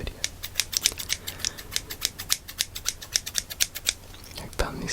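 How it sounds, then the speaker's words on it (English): Scissors snipping in a rapid, regular series of crisp metallic clicks, close and fairly loud, ending with a louder clack. "I found these scissors as well."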